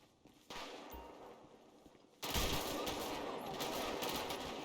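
Dense, continuous automatic gunfire in a GTA V zombie mod video game starts quieter, then jumps to a louder, sustained barrage from nearby.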